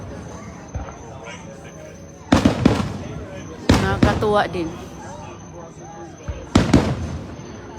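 New Year fireworks go off over a residential neighborhood in three loud clusters of booms and crackles spread across several seconds, with a person speaking briefly between the bursts.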